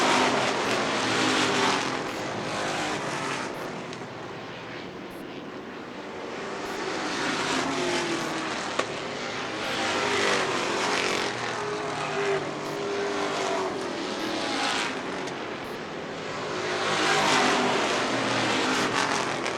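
Race cars roar past on the oval at Wiscasset during a long green-flag run, the loud engine drone swelling and fading as cars sweep by in a steady stream, with no voices.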